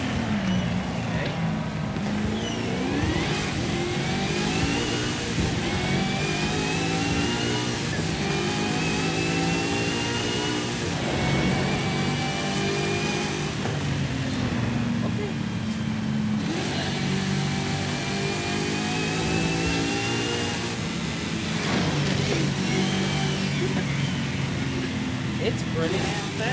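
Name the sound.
Corvette accelerating in video game Forza Horizon 5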